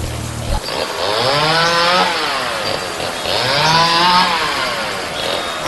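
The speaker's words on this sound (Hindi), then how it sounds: "चेन सॉ की आवाज बहुत तेज आ रही है" A chainsaw in an animated horror story roars loudly in two long revving surges, the engine pitch climbing and falling, with a brief low idle at the start and no speech.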